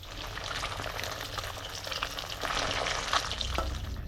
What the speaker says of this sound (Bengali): এখনও তেল ছটকাচ্ছে